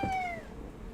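A house cat meows for attention, a single short, clear meow up close, with nothing else around it.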